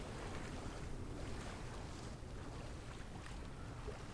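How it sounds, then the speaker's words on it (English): Gentle waves lapping on a shore in the video game Dear Esther, a soft, continuous wash with faint wind noise, quiet and steady with no voices. "I like to spend some time here and just listen to the lapping waves."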